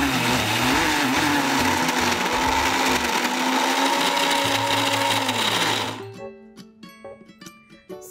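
Blender pulsing pre-roasted peanuts into peanut butter in a jar, a loud continuous motor whir that winds down after about six seconds, leaving scattered faint clicks and rattles.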